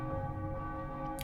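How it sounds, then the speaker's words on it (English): A bell in the game Dragon's Lair 3D rings once with a sustained metallic tone that decays across the short clip, close and clear, with no talking. "So I hit the first bell"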